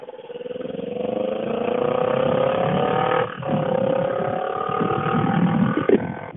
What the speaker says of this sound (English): my bike is very loud